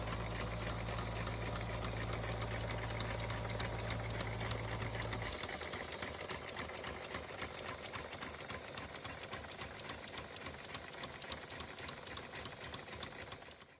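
Rapid mechanical clatter of small Stuart model steam engines running steadily on compressed air, with a low hum that cuts out partway while the fast ticking rhythm continues.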